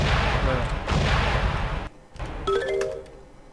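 A Bomberman video game bomb explodes in a loud broadband burst lasting almost two seconds, which drops away sharply, followed by brief tonal game chimes and jingles.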